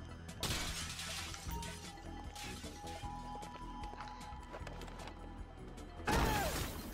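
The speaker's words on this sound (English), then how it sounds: "Shoot the window and escape." A window being shot and shattering in the video game GTA V, with a crisp burst near the start, mechanical clanks and creaks through the middle, and a loud crash of breaking glass at the end.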